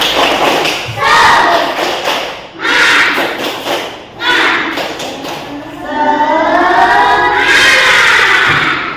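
Schoolchildren in a classroom do a rhythmic spirit clap, with thudding claps in patterned bursts mixed with their loud group chanting.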